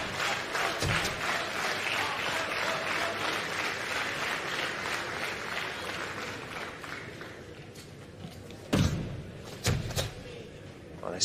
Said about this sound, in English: Crowd getting into it here now.